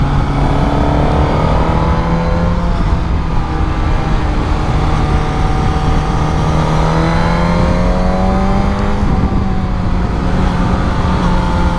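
A Suzuki GSX-S 1000 motorcycle revs hard and accelerates at high rpm, its engine note climbing and wavering steadily for the whole stretch with loud, continuous wind and road roar underneath.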